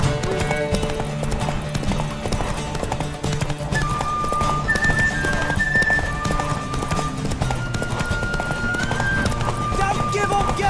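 A horse gallops with rapid rhythmic hoofbeats and a whinny in The Witcher 3, under game music and voices, steady and close.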